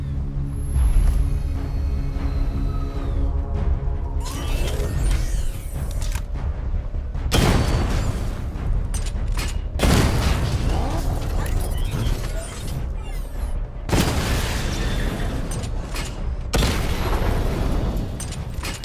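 Weapon fire and explosions destroying targets in Batman: Arkham Knight, repeated heavy booming blasts with mechanical creaks and rattles between them, loud and dense throughout, with a synthetic voice announcing over parts of it.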